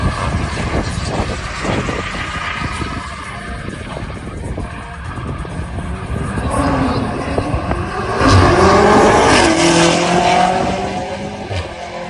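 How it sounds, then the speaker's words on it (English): A stock Cupra 280 launches down the drag strip at Santa Pod, its engine roaring loudly and building through the gears, with tyre and road noise swelling toward the end. "this will be my first ever drag race at Santa Pod in the Cupra 280 stock"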